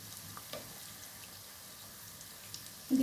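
Nimki pastries deep frying in hot oil, a steady soft sizzle with faint bubbling and a brief clink near the end.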